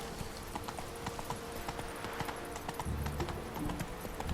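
A horse gallops in Witcher 3, its hooves clip-clopping in a steady, rapid rhythm close by, with a brief whinny and faint game ambience underneath.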